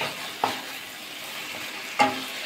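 Cauliflower stir-fried with spice paste in a pan: a quiet, steady sizzle with two distinct clanks of a spatula against the pan, no talking.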